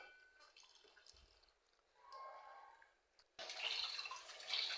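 Cups, plates and bowls being washed under running water, quiet splashing and trickling at first, then a louder rush of tap water near the end, with no voices.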